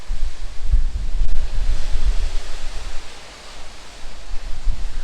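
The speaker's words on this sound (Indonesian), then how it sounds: "Jadi saya sempetin keluar dan ternyata emang ombaknya gede." Big ocean waves in the Lombok Strait heard from a ferry deck, a broad low rumble of surf and water mixed with wind buffeting the microphone, continuous and loud with a brief lull midway.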